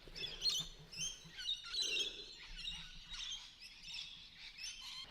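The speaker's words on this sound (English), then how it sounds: "Sorry about all the squawking. The lorikeets are probably peeking the microphone." Lorikeets squawk and chirp near a garden bed of newly planted Christmas bushes, shrill calls coming in bursts almost without pause, no talk over them.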